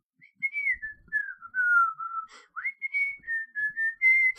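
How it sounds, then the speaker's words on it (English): A lilting whistled melody of the song from Disney's Robin Hood, carried by a clear solo whistler in a string of smooth phrases with a brief pause midway. "it also had the whistling song from Robin Hood"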